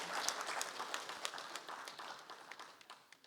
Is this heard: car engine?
no